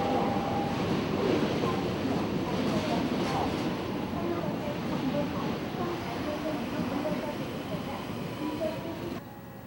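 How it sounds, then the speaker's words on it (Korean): Seoul subway Line 1 train running, a steady loud broadband rumble of wheels and carriage noise throughout, easing slightly near the end. "오랜 시간 동안 이 땅의 수많은 노동자들의 애환을 싣고 달린 지하철 1호선"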